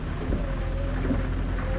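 Steady rain hiss in American Truck Simulator, with low rumble underneath and a faint constant tone, continuous and fairly close, no voices.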